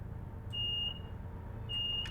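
Warning beeps in a train cab in Train Simulator Classic: two short electronic tones, the first brief and the second longer, sounding clearly over a low engine rumble.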